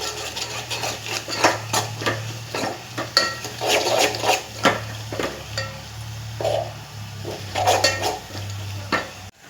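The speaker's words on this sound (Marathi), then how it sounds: "आता यामध्ये आपण 2 चमचे लाल तिखट टाकून मस्त यामध्ये परतून घ्यायचं" Golden onion and garlic with two spoons of red chilli powder being stir-fried in a pan, a spoon scraping and clanking in quick irregular strokes over a low sizzle, close up, no talk.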